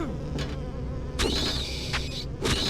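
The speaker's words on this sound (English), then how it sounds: "Oh, it's like mosquitoes." Insect-like buzzing from mosquito-style creatures in the video game Silent Hill 4, a steady close drone with sharp whining swells that rise and fade several times over a low ambient rumble.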